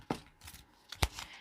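Tarot deck being shuffled by hand, a few quick, soft riffling bursts close by in a quiet room.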